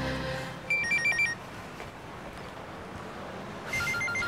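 A telephone rings in two short electronic bursts, the first a fluttering double trill and the second starting near the end, over a quiet indoor room tone with no speech.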